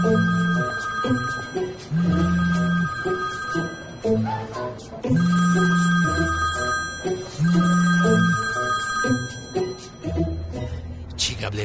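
A telephone rings in repeated loud electronic bursts, each a couple of seconds long with short pauses between, close and clear, with voices faintly present alongside.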